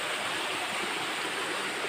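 Mountain water rushing steadily down into a pool, a loud, continuous broadband roar like a small waterfall, with no voices over it.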